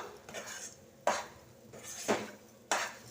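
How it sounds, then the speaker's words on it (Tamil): Sweet mixture being stirred in a kadai, with a few sharp scraping clatters of a metal spoon against the pan over a soft background hiss. "நல்லா கிளறி கொடுக்கும்போது இந்த மாதிரி கடாயில் ஒட்டாமல் வரணும்."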